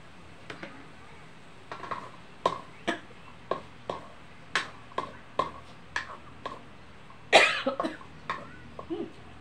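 Repeated short coughs while cooking carbonara tuna pasta, about a dozen sharp bursts spaced roughly half a second to a second apart, close and fairly loud, with one harder cough near the end and no talk.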